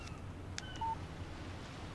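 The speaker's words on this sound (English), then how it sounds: "Text message from Barry." In the video game Alan Wake, a phone gives a brief electronic text-message alert: a single short, clean tone heard quietly over a faint background hum.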